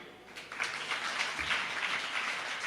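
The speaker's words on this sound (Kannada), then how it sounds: "ಈಗ ಕ್ಲ್ಯಾಪ್ ಹೊಡಿಬೇಕು" An audience at a stamp release ceremony for Acharya Madhva breaks into applause, a dense, even wash of clapping that starts after a brief pause and continues steadily at a moderate distance.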